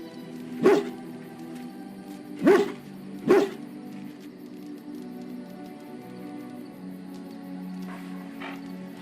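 A dog in the fantasy role-playing game Dragon Age: Origins gives three loud, separate barks close by, followed by a quiet ambient hum with a faint fourth bark near the end.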